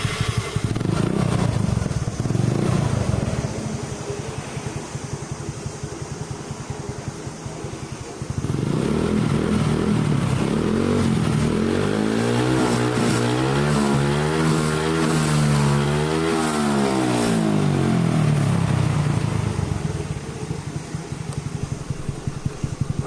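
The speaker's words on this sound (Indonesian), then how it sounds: "sekarang kita coba tes hidupkan mesinnya" Motorcycle fitted with a homemade dual ignition system starts and runs close by, with a steady idle followed by several rising and falling revs that sweep up and down repeatedly, loud throughout with no talking.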